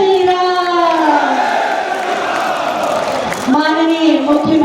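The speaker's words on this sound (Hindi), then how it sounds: "जोरदार तालियां जौनपुर के स्नेह और आदर को प्रदर्शित करती हुई" A large crowd at a political rally in Jaunpur roars and cheers loudly and continuously, with sustained shouting voices filling the space, briefly dipping before swelling again.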